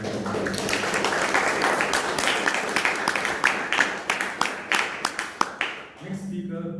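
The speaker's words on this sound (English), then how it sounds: "let us give a round of applause for both Rajiv" Audience applause at a Toastmasters club meeting in Bangalore, a dense burst of clapping from a room of people that thins into scattered individual claps before fading, with faint talk underneath.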